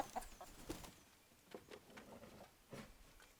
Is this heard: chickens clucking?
yes